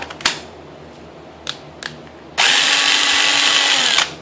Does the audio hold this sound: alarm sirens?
no